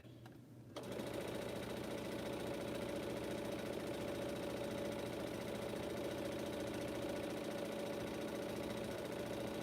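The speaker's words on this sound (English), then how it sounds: "I'm just going to sew over the tip of my pins right here so we can get this done" A home sewing machine stitches steadily over the tips of pins in quilting fabric, a close, continuous motor whir with rapid needle chatter starting after a brief quiet moment and running unbroken to the end.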